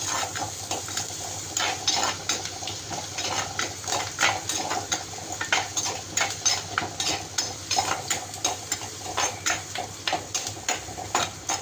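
Tomatoes going into golden fried onions for a fish curry, stirred in a pan: steady scraping and clinking of a spoon against metal over a soft sizzle, close and continuous with no talking.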